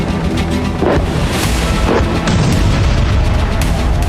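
A steady, rumbling roar from a bombardment in northern Israel, with deep booms rising out of it in a couple of places. It sounds loud and continuous and has no talk over it.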